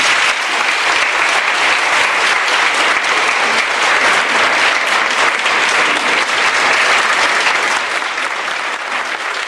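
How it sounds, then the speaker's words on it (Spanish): Audience applause for a newly launched children's pre-orchestra, a steady, dense wash of many hands clapping, loud and close, sustained without pause across the whole stretch. "Yo creo que los niños se merecen nuevamente un gran aplauso de parte de ustedes."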